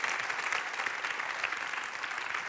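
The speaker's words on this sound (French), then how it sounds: "On peut le faire applaudir ? On l'applaudit." Steady, dense clapping from a conference audience at a customer relations awards event, sustained and even throughout with no voices over it.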